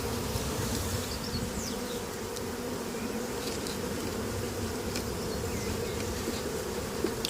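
A dense, steady buzzing of many honeybees close by at an open hive, continuous and even throughout with no talking.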